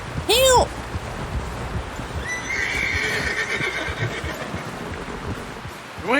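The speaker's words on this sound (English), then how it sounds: "Someone help John down off this horse" A horse in Red Dead Redemption 2 gives a loud, close whinny near the start, then hoof clops and a rustling outdoor ambience follow, with shouting voices in the background.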